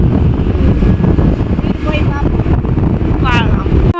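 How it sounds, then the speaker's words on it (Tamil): Cold wind rushes steadily past the microphone while riding a motorbike, a loud continuous rumble and roar with brief faint tonal traces, and no talk. "எனக்கு காதுக்குள்ள அப்படியே சில்லுன்னு காற்று போகுது."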